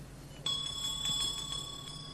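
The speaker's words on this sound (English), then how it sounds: "Why does someone always ring the bell when I'm busy?" A bright, steady bell tone rings out and lingers, clear and sustained with a faint shimmer, over quiet background noise.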